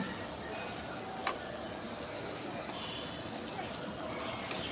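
Spice paste with salt and turmeric sizzles in hot oil for a tengra fish curry, a steady frying hiss broken by a couple of sharp clicks from stirring.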